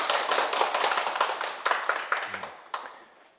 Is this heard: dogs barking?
no